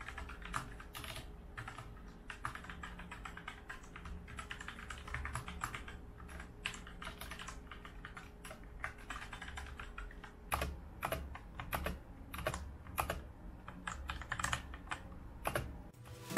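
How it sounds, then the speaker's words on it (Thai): Steady typing on a Nubwo X29 Eternal mechanical keyboard with quiet, non-clicky switches; soft, dull keycap taps bottoming out, heard close and faint, in a continuous rhythm that turns into sharper separate strokes near the end. "ความดังอ่ะคือมันจะอยู่แค่ตัวคีย์แคปแล้วก็กระทบกับพื้นข้างล่างแค่นั้นเองนะคะแต่ว่าความคลิกกี้จากตัวสวิตช์เนี่ยไม่ค่อยมีสักเท่าไหร่เนาะ"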